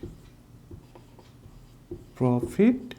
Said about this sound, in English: So let us write here profit